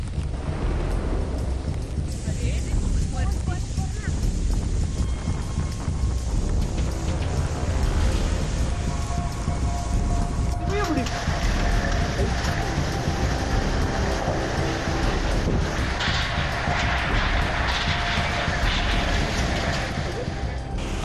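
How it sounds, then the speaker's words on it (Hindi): Strong wind and heavy rain from Cyclone Nisarga lashing Mumbai, a dense continuous roar with broad noise and rumbling throughout, steady and loud with no pauses. "तेज हवा और बारिश का असर मुंबई पर पड़ा है।"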